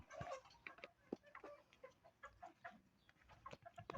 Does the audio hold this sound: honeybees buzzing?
no